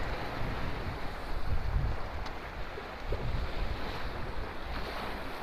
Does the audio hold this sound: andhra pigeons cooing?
no